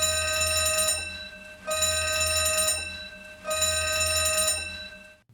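Starship alarm rings out in an arboretum aboard a ship, three loud electronic ringing bursts of about a second each separated by short pauses, close and clear with no talking.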